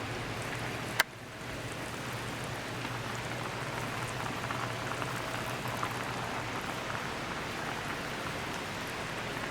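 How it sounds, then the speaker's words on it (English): Rice boiling in a pot for a West Indian Sunday lunch: a steady, dense bubbling hiss runs throughout after a brief sharp knock at the start, with no talking. "I need to finish some rice that I'm boiling"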